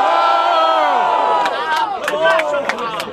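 At a rap battle, a large crowd roars and shouts loudly and continuously, with cheers and sharp yells rising over the din across the whole moment.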